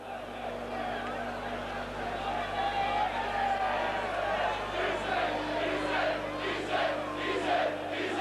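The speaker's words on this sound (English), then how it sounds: "Crowd just chanting Izzy." Rugby league crowd at a Leeds v Bradford Northern Regal Trophy match chanting in rhythmic waves, heard from a distance beneath a steady low hum, with the chant swelling toward the end.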